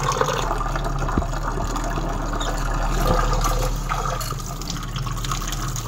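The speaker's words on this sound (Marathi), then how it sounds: "तांदूळ असा स्वच्छ धुवून घ्यायचा, बरेच दिवस ठेवलेला होता म्हणून मी चांगला स्वच्छ 5-6 वेळा तरी धुवून घेते।" Rice is swished and rinsed in a pot of water in a home kitchen, giving a steady wet sloshing with small splashes and a constant low hum beneath, no talking.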